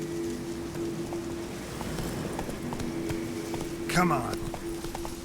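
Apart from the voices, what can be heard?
horse galloping in The Witcher 3 video game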